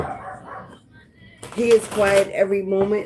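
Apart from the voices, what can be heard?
dog barking in the background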